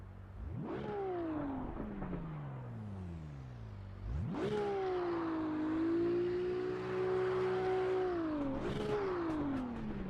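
Racing-car engine in Assetto Corsa EVO revs up and down, rising and falling in pitch through repeated climbs with a shift break near the middle, loud and steady with no talking.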